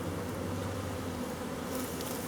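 Honeybees hum in a steady, dense drone close by at an open hive. The buzzing is continuous and loud throughout, with no talk over it.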